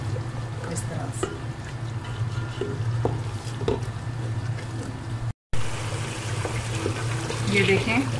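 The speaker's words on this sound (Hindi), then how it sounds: "अब इसके बाद हम इसमें ये दही शामिल कर देंगे, और फिर अब हम दही के साथ इसकी अच्छे से भुनाई करेंगे इस तरह से।" Onions and spices frying in a pan with yogurt for mutton kofta masala, a steady low sizzle with repeated scraping stirs, brief cut then louder bubbling frying, a voice talking over it.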